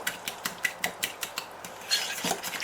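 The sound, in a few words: mixing minced garlic for chicken soup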